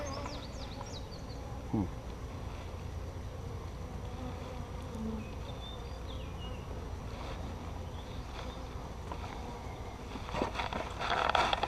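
Honeybees humming in a weak, moldy hive opened for an inspection, a low steady drone with occasional close passes of individual bees and faint handling noises, rising slightly toward the end.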